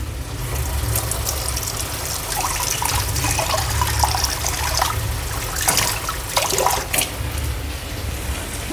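Water poured from a rinsed vessel into a pot of mutton gravy, a close trickling, splashing stream with a few louder gushes and no talk.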